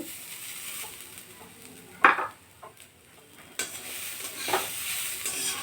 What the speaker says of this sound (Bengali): কড়া বসিয়ে দিয়েছি কড়া গরম হয়ে গেছে এবার নারকোলটা দিয়ে দেব